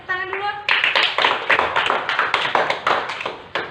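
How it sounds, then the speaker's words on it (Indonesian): A classroom of fourth-grade pupils claps hands together after a brief voice, a dense, rhythmic burst of applause lasting a few seconds, near and fairly loud. "Kasih tepuk tangan dulu."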